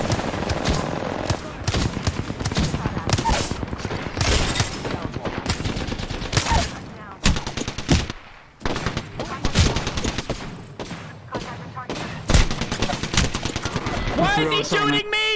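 Rapid gunfire in a first-person shooter video game, dense bursts of automatic shots and single cracks nearly nonstop, loud, with a player's voice and game sounds mixed in.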